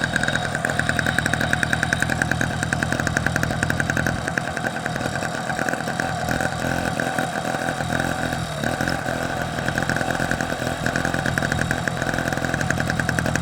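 A Solex 6000 moped engine runs steadily, a loud, close, buzzing two-stroke drone with a fast even pulse that holds without a break throughout.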